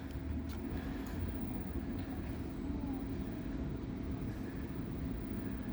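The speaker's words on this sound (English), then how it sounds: "here we see the long distance train departing." A long-distance train rumbles steadily as it pulls away from Tłuszcz station in Poland, a continuous low roar with faint squeaks, no voices.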